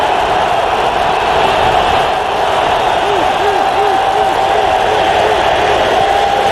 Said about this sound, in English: the crowd is fired up, trying to help out their defense